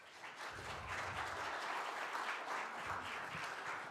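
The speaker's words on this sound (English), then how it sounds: "So welcome David up with a big round of applause." Warm, steady applause from a church congregation welcoming a speaker to the front, a dense wash of many hands clapping continuously for the full stretch, fairly close and even in loudness.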